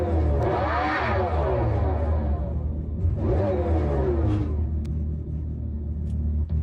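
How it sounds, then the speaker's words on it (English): Synthetic exhaust sound from a Dodge Charger Daytona SRT electric concept car, a loud deep engine-like drone that swells in two revving surges over a steady rumble. "the sound is controlled by the application of the accelerator pedal, speed, and a few other parameters, hence that revving that you can hear in the clip"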